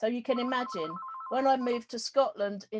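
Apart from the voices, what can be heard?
phone ringing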